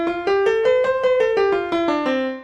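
A superpyth major scale in 22-EDO tuning played on a keyboard, eight evenly spaced tonal notes stepping in a steady rhythm, close and clear with no voices.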